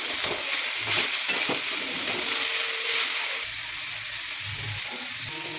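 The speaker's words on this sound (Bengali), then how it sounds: "এইবার নুন দেবো, হলুদ আর লঙ্কার গুঁড়ো দিয়ে ভালো করে ভেজে নেব।" Fish roe frying in a pan with salt, turmeric and chili powder, giving a steady close sizzle with occasional stirring scrapes and clinks, no voices.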